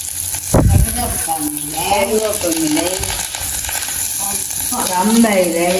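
Sliced onion and green chilli sizzling in hot oil in a pan during Jaffna-style home cooking, with steady frying hiss throughout, a brief clatter near the start, and someone talking over it.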